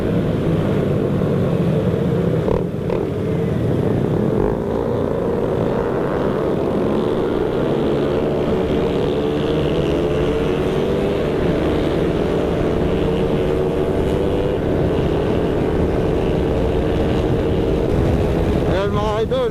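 A V8 engine runs steadily with a deep, continuous rumble that stays loud and close throughout, briefly overlapped by a voice.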